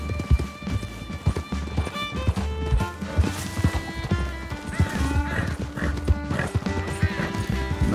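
Horse hooves gallop in a steady clip-clop rhythm during a chase in Red Dead Redemption 2, with occasional whinnies over game music and a loud, busy soundscape.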